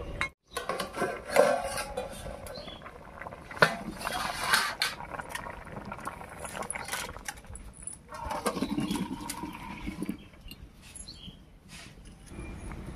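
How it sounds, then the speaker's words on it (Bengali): A cooking pot holding steamed jackfruit and potato clinks and scrapes as it is lifted off the heat and its lid is taken off. Irregular metallic knocks and rattles sound close up, with no talking. "এবার নামিয়ে নিচ্ছি ঢাকা খুলে।"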